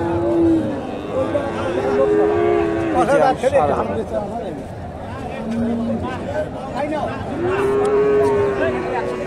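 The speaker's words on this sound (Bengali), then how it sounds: "ফ্রিজিয়ান ষাঁড় গরু, মোটামুটি 1 বছরের আশেপাশে এইগুলা বয়স হবে।" Friesian bulls about a year old moo repeatedly at a busy cattle market, several long low calls near and loud, with crowd chatter and people talking throughout.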